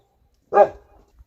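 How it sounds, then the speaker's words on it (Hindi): A single sharp dog bark rings out close by in a quiet village setting, followed by silence and a faint thump. "पता नहीं क्या दिख गया ऐसा कि भौंके जा रहा है"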